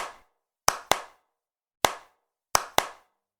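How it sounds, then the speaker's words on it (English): Hand clapping in a sound pattern: five sharp, isolated claps set apart by silence, grouped as two quick claps, a single clap, then two more quick claps, close and crisp with no talk. "Sound patterns, like clapping"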